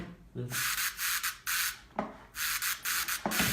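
A basic noise synth layer from an FL Studio track plays in rhythmic bursts of bright hissing noise, loud and rasping like sanding, repeating in short swells with no voices.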